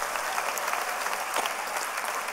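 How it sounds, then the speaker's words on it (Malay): Thunderous applause fills a party assembly hall, a dense, steady roar of many hands clapping at once with no talk, sustained evenly throughout. "Berikan tepukan gemuruh"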